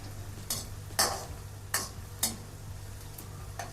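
Onions frying in a pan as vegetables for aloo gobi are stirred, giving four or five distinct scraping strokes spaced about half a second apart over a steady low sizzle and hum, with no talking.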